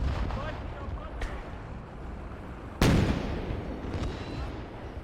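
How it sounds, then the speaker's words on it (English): A single heavy artillery blast erupts midway through a tense World War II battle in the strategy game Gates of Hell, set against a constant rumbling battlefield din with some faint distant shots and a talking voice. "Well, now we've got artillery."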